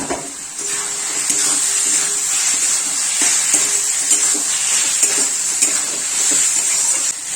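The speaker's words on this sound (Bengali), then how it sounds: "মশলাটা কষে আসলে এবার এর মধ্যে পটলগুলো দিয়ে দিতে হবে।" Pointed gourd stir-frying in spice masala, a loud, close sizzle with repeated scraping and clinking from a spatula against the pan, all steady and without voices.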